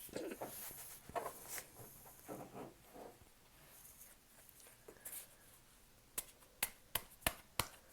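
Soft riffling and flicking of tarot cards being shuffled, ending in a quick run of crisp, evenly spaced snaps, close and fairly quiet.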